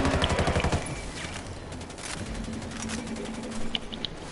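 Rapid automatic gunfire in the Ghost Recon Wildlands video game, a dense burst of close shots at the start giving way to scattered, sustained firing and crackling impacts with a few sharp cracks near the end.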